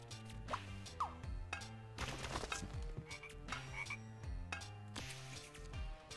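Cartoonish frogs croaking in the video game Scribblenauts, a run of deep repeated croaks mixed with thuddy game effects, fairly close with no talking.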